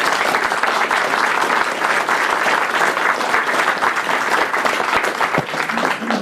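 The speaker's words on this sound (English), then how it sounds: "Just a round of applause for both speakers." Dense, steady audience applause fills a room at a county groundwater model roll-out event, many hands clapping close by at an even, sustained level with no voices standing out.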